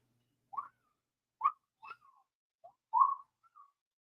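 A pet cockatiel whistles back in imitation, a handful of short chirpy notes spaced unevenly over a few seconds in a quiet room, with no voices.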